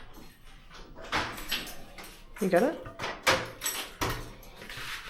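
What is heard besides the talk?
door being opened and closed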